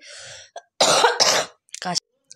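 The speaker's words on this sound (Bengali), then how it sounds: "কাশিটা প্রচণ্ড পরিমাণে বেড়ে গেছে আর একদম কথা বলতে পারছি না।" A person with a worsening cough gives several harsh coughs and throat clearings, close and loud, in short bursts separated by brief silences.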